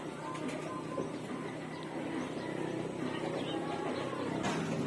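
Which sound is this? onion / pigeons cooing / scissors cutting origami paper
pigeons cooing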